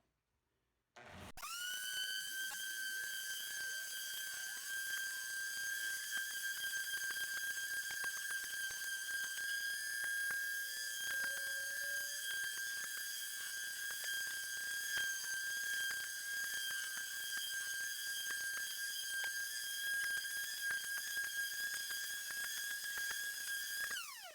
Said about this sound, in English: I'm going to now start sanding with the 120, and then I'm going to switch over to the 220.